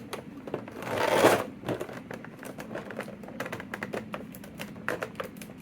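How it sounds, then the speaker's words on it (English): Scissors slide along packing tape on a board game box, producing a dense burst of scraping and tearing followed by a run of small crackling taps and crinkles, close by. "Just running them along can get rid of the tape."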